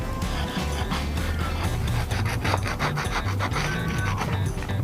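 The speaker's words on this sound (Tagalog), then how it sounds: "Okay, kumuha ko ng liha. Lihain muna natin to." Sandpaper rubs steadily by hand against a dirty ignition switch part from a CFMoto NK400 motorcycle, producing a continuous close scratchy rasp of rapid back-and-forth strokes with no talking.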